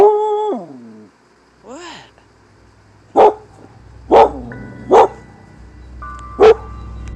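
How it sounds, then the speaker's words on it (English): A dog howls and whines, then gives four loud, sharp barks spaced about a second apart, close by and alone. "her dog repeatedly barked at whatever was on the other side"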